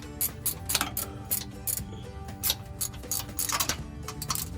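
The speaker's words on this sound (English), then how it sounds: "A ratcheting wrench." Ratcheting wrench tightening a Toyota OEM union on the rear differential breather of a 2016 4Runner Trail Premium, rapid close clicking pawl bursts repeating in short uneven strokes.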